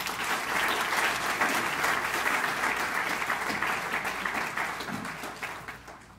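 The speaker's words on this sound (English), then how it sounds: "Please give them a round of applause." Sustained applause from a synagogue congregation honoring community volunteers, dense steady clapping that holds strong for about five seconds and then gradually thins and fades toward the end.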